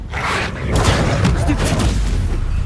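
Incendio fire spell and combat effects in Hogwarts Legacy, a burst of booming blasts and thuds with whooshing, dense and loud throughout, with game voices mixed in.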